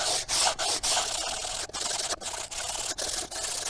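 Steady abrasive rubbing from sanding epoxy fillets on model rocket fins, a continuous bright scratchy hiss broken by short regular gaps as the sanding strokes change direction, close and fairly quiet with no voices.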